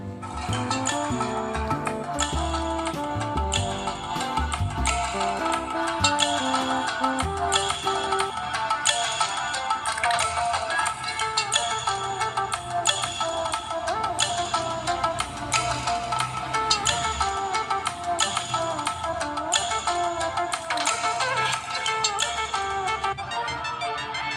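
Music plays through the speaker of a Samsung A02s phone. The dense, continuous playback holds a ringtone-like melody and stays at an even level throughout with no talking.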